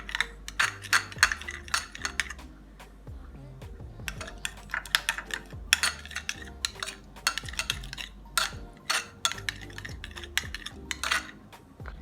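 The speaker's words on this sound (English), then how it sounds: "So you just mix." Saltfish filling for plantain boats being mixed in a bowl, with quick irregular clinks and scrapes of a utensil repeating steadily throughout, close and fairly crisp over soft background music.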